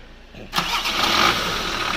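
Volkswagen T4 with a 2.5 engine being started: after half a second of near silence the engine catches abruptly and settles into a steady, loud, close idle with a broad hissing roar.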